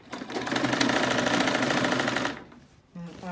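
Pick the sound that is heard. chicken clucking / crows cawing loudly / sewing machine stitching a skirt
sewing machine stitching a skirt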